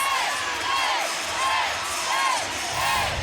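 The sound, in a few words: crowd cheering at a gymnastics meet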